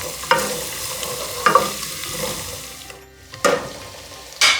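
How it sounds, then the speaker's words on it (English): Four cloves' worth of chopped garlic sautéing in a pan for a dhaba-style kadhi pakora tadka: a low continuous sizzle punctuated by four sharp spatula scrapes and clanks at uneven intervals, close up, with no talking. "chopped garlic, like a 4 cloves. Curry we need mostly garlic, most of them garlic. So a little bit saute."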